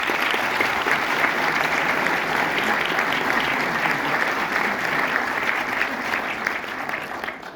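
An audience in a Paris cinema applauds, a dense, sustained burst of many hands clapping that stays steady and fades slightly toward the end.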